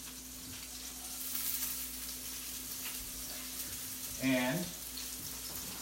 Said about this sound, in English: So now we have our oil that's nice and hot. We're going to go ahead and we're going to add our onions.